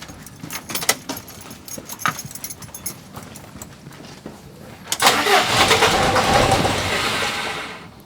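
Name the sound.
truck engine starting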